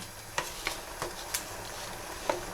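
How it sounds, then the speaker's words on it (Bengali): A spoon stirs chicken curry in a pan just after water goes in, giving a handful of soft, evenly spaced scrapes and taps over a low, steady simmer. "জলটা দেওয়ার পরেই কিন্তু আমরা কি করব, এটাকে নাড়িয়ে দেবো"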